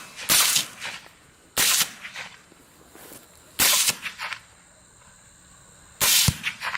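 Four sharp, loud reports ring out a second or two apart in open farmland during a feral hog hunt, each with a short trailing echo and quiet gaps between them.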